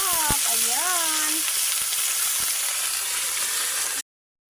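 A native chicken sizzles loudly and steadily in a pan cooked over a wood fire, a continuous bright frying hiss that cuts abruptly to silence near the end.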